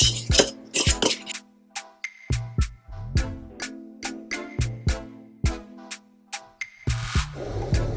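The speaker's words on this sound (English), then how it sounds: "I'm just going to mix all the herbs together." A spoon mixes herbs and spices together in a bowl, giving a close run of sharp clinks and scrapes at an uneven pace, with no voices.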